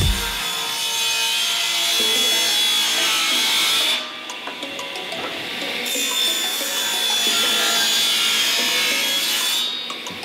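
A saw cuts through 3/4 inch plywood pieces being oversized for a miter sled, a loud continuous rasping cut that dips briefly midway and then carries on steadily to the end, with no talking.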